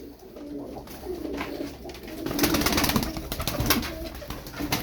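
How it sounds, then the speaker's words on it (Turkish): Tumbler pigeon flying and working its wings outdoors, with soft repeated cooing and wing flutters over steady background noise, growing louder midway; no speech. "bakın bu kuş da kanat çalıştırıyor."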